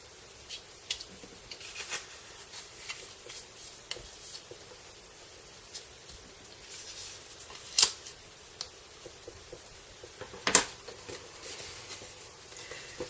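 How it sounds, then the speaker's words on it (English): Scoring and folding paper card with a score tool gives faint, sparse papery scrapes, taps and creases, with two sharper crackling folds standing out, quiet and close with no talk. "I'll just grab my score tool and fold these down."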